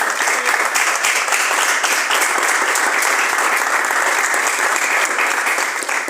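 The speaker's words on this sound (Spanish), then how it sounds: "Den un aplauso a Cristo, pues, hermano." A church congregation applauds loudly and continuously, dense clapping that holds steady throughout without a break.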